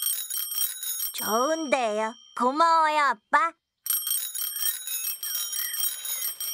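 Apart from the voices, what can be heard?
bicycle bell ringing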